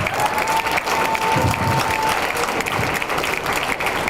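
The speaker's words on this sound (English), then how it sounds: "I want to hear some clapping as well" A crowd of Jewish New Yorkers claps steadily at a prayer gathering for Israel, a dense, even wash of applause lasting throughout, with a faint sustained tone briefly audible over it.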